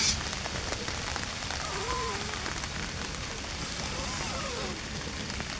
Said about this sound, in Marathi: पाऊस आलाय जोरात, बेकार पाऊस आलाय